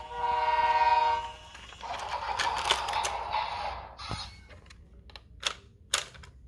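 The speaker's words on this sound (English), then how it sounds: "see if it wants to say choo-choo again" A BRIO Smart Tech toy train's two-tone whistle hoots steadily for about a second and a half in a sound action tunnel, followed by whirring, clicking mechanical noises and a couple of sharp clacks.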